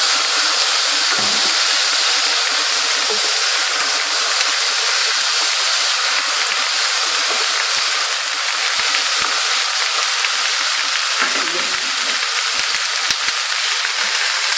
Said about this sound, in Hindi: अब मैं इसमें टमाटर डाल दूँगी।